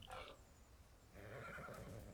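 A horse neighs in a video game, a short whinny near the start followed by a longer, breathy second call, fairly close and clear over a low background hum.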